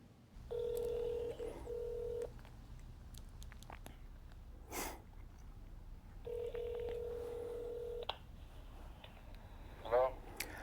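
Telephone keypad tones beep in two quick bursts of dialing a few seconds apart, close and clear, with faint breathing and small handling noises between them.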